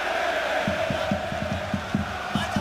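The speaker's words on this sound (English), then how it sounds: "Just listen to this Saarbrücken crowd here." A home crowd of Saarbrücken football supporters roars at a DFB-Pokal cup tie, a dense constant stadium noise with repeated rhythmic chant beats and shouts, loud and close throughout.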